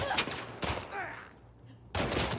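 Gunfire in The Last of Us Part II, a few sharp shots in quick bursts with a pause between, close and loud against quieter game ambience.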